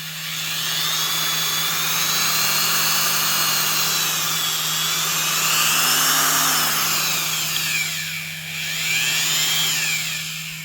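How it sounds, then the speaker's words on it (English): A Milwaukee Magnum 1/2-inch compact right angle drill with helical cut gears runs steadily and loudly for about ten seconds, a smooth high whine with a slight dip and rise in pitch near the end. "A lot of Milwaukee drills really sound nice when they're running"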